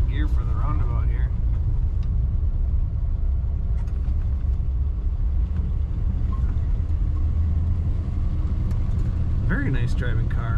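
Interior road sound of a 1953 Ford Crestline Victoria cruising, a steady low engine and road rumble that stays quiet and even, with someone talking briefly at the start and end.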